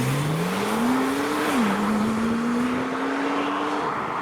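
A Porsche 991 Turbo S pulls away from a car show, its engine note rising and shifting as it accelerates steadily past at moderate distance with no voices.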